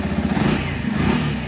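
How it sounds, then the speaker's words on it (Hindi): A 2022 Yamaha FZ-S FI Deluxe BS6 motorcycle engine idles nearby with a steady, even low rumble and a fast, regular throb that stays constant throughout, with no talking. "इसके इंजन के साउंड को सुन सकते हैं"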